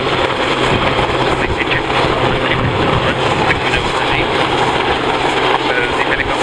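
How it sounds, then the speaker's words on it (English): A military rescue helicopter hovers low during an air show demonstration at Cosford, its rotors and engine making a loud, steady droning roar throughout as a commentator speaks over it. "So the helicopter comes down so as to minimise the amount of time the person has to spend on the end of a wire."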